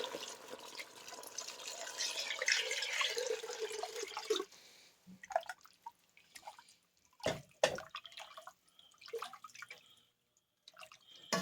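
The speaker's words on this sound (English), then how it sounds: "In goes the 8 cups of water." Eight cups of water pour steadily into a cooking pot for Houma-style green gumbo, a dense splashing rush for about four seconds, followed by quieter scattered clinks and kitchen handling sounds.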